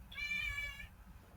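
A cat meows once, a clear, tonal, drawn-out cry heard up close and alone, with a low background rumble underneath and no talking.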